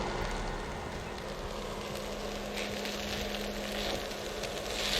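Potatoes frying in a pan with salt added, giving a steady, even sizzle that holds at the same level throughout, close and alone with no talking.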